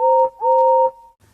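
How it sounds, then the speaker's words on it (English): A steam engine's whistle sounds two loud, sustained steady blasts, the first short and the second longer, each with a clear harmonic tone, dying away into quiet station ambience. "Everyone knew that whistle"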